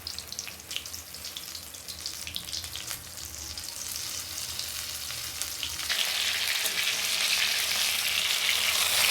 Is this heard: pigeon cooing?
no